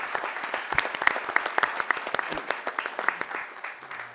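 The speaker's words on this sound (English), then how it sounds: "a round of applause for our awesome students in Coral Springs" A city commission meeting audience claps for local students, a lively spread of distinct hand claps with individual sharp hits standing out over a steady patter, fading toward the end.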